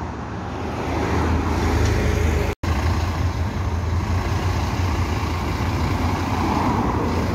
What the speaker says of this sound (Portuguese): o único Mega 2006 despadronizado da Três Amigos. Com escapamento furado.